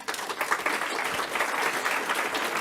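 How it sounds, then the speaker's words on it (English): A crowd at a policy conference session on collaborating with trading partners gives a round of applause, dense and steady clapping that holds at an even level throughout. "perhaps another round of applause"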